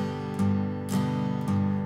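An acoustic guitar plays a verse pattern close up, each bass note followed by a full strum, with three bright strum attacks over ringing chords.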